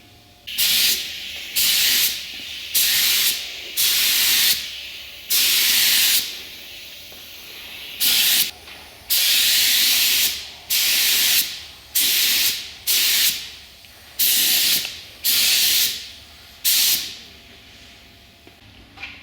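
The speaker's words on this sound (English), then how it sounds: "I'm just using the little paint gun since we're doing a small area" A small paint spray gun spraying car paint onto a Nissan Maxima rear panel, loud hissing bursts about a second long repeated in an irregular rhythm with short pauses between passes, close and alone.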